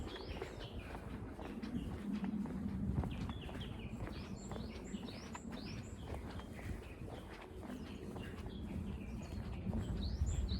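Birds chirp and call repeatedly in the distance in a forest along a walking path near a horse-riding stable, over a steady outdoor background hum.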